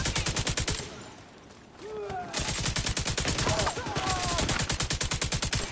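Rapid automatic gunfire in the Division 2 shooter game cracks in dense, continuous bursts, briefly thinning before resuming loud and relentless with overlapping shots.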